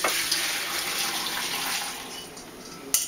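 Butter solids being rinsed under a steady stream of running tap water, a continuous close splashing hiss with a brief sharper splash near the end.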